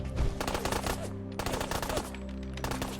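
Rapid automatic gunfire from the Fallout 4 video game, with a zombie apocalypse mod, rattles out in dense, loud bursts that run almost continuously, pausing briefly twice before resuming.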